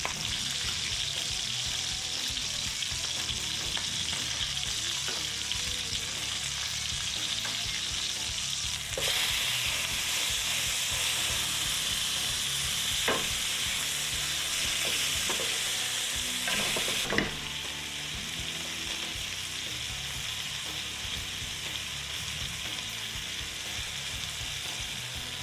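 Bacon fries in a pan for a double cheeseburger, giving a loud, dense, unbroken sizzle with faint crackles and occasional scraping from stirring. No one speaks.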